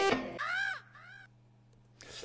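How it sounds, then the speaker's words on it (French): A crow caws in a music video edit, two hoarse descending calls followed by a low steady hum and a fresh burst at the end, fairly quiet. "L'espèce de son de corbeau, là"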